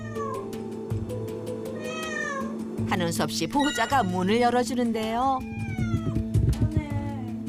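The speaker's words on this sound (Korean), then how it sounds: "방문을 닫은 보호자가 원망스러운지 문 앞으로 다가가 더 크게 울어댑니다" A house cat meows loudly and insistently at a closed room door, with a string of drawn-out cries while a narrator talks over it.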